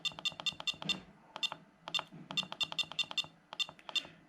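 Beeping alarm from an Aircotec Alib paragliding variometer: rapid bursts of short, bright electronic tones repeating in quick clusters with brief pauses, close and clear with no talking.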